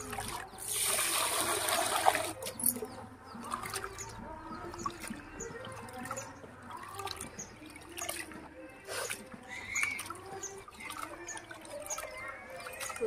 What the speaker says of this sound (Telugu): బియ్యం శుభ్రం కడిగేద్దాం.